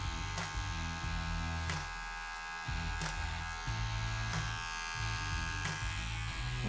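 Electric hair clippers buzz steadily while cutting a flat top haircut in a barbershop, a continuous close hum with brief dips and strokes as the comb and blade move around the head.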